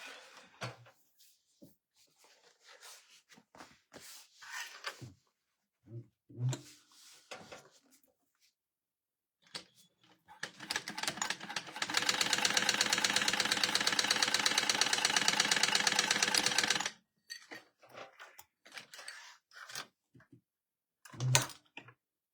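A sewing machine top stitches a crossbody bag in a quiet room, running in a steady rapid mechanical chatter for about five seconds, with faint clicks and handling bumps before and after.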